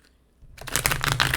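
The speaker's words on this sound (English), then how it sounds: "I'll shuffle one more time" A deck of tarot cards is shuffled close by, quiet at first and then a quick flurry of crisp riffling clicks and flutters that stays loud to the end.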